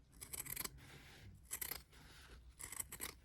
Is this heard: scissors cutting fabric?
yes